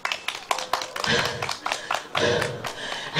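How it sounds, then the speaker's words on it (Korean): A crowd at an outdoor busking show by Baegun Lake in Uiwang claps in uneven bursts, the sharp claps close and fairly loud, while someone talks over them. "다시 한번 박수 한번 크게 쳐주세요."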